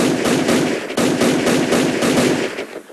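Rapid automatic gunfire aimed at an AI-generated NPC character in an Unreal Engine 5 game, loud and continuous bursts with a brief break near one second, tailing off at the end.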